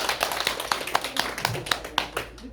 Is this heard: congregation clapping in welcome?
yes